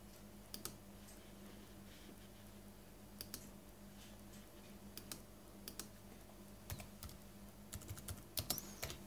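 Apple Bluetooth keyboard paired with a Nexus 9 tablet being typed on: scattered, quiet key clicks in short irregular bursts, quickening toward the end, in an otherwise hushed room.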